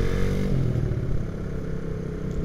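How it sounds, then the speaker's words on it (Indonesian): Suzuki Satria FU 2009 motorcycle being ridden toward Magelang from Jogja, a close, continuous engine drone mixed with road and wind noise. "dengan motor Satria F."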